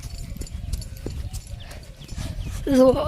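A mare walking, her hooves clip-clopping in a steady uneven rhythm close by, with people talking over the steps and a brief louder tonal sound near the end.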